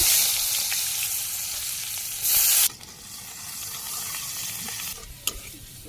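Spice paste dropped into hot oil in a pan for a jackfruit curry, giving a steady loud sizzle and frying hiss with stirring scrapes. A sharp burst of hissing comes partway through, and no one speaks.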